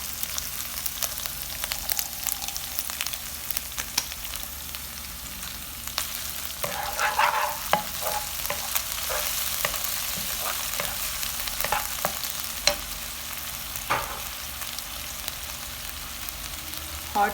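Chili chicken fries over a low flame, a soft continuous sizzle with intermittent scraping and tapping of a stirring utensil against the pan throughout.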